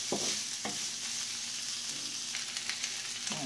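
Fried rice stirred and sizzling in a pan, a steady bright frying hiss with a few scraping strokes of the spatula, close and continuous, no talking.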